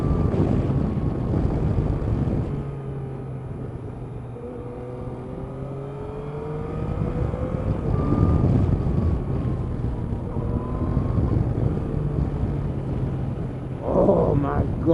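A new 2016 street motorcycle revs and cruises at speed, its engine tone climbing and falling through gear changes beneath heavy wind rush buffeting the microphone, with a rider's voice occasionally audible.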